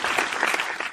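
Applause sound effect played during a podcast recording, a short one-second burst of dense clapping and light cheering at steady, fairly loud level.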